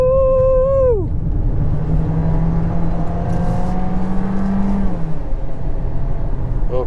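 A new Volkswagen Golf GTI driving a flying lap of the Sepang circuit's south track: the engine's loud tone drops sharply, then settles into a steady, slowly rising drone as the car accelerates, with road and wind roar underneath.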